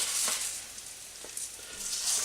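Rice stirred into hot oil and garlic in a pan for Hainanese chicken rice makes a close, bright hissing sizzle with soft scraping stir sounds that rise and fall over a couple of seconds.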